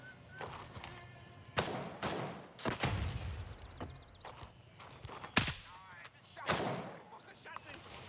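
Bursts of gunfire crack out repeatedly in a Gray Zone Warfare firefight, sharp close shots spaced irregularly among lighter clatter and movement, with someone talking over the action.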